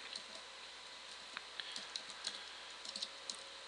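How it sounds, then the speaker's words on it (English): Someone types on a computer keyboard, a steady patter of quiet keystrokes with a few sharper clicks, close and alone with no talk. "So if I start typing, like I'm just going to type in something silly here."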